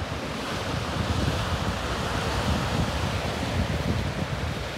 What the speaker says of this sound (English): these surfable waves, look at that